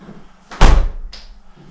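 Door of a big-turbo SRT car slammed shut, one loud close thud followed by a quieter latch click, nearby with no talking.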